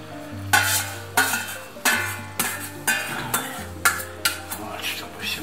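Pasta horns being stirred in a frying pan with liver, a spoon or spatula scraping and clanking against the pan in regular strokes about every half second over a soft background sizzle.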